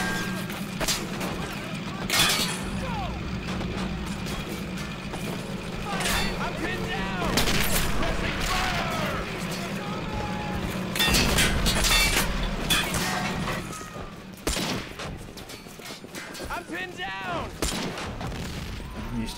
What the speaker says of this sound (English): Got to hit him with some high explosive rounds, anti-infantry rounds from the tank.